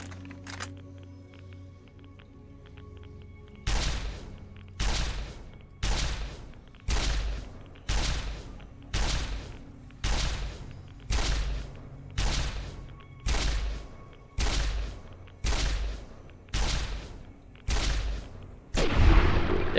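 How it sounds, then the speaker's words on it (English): Recharger rifle shots in Fallout: New Vegas, about fifteen evenly spaced sharp energy blasts fired one after another in a steady rhythm, loud and close, after a short quiet stretch. "I guess we can use the recharger rifle now."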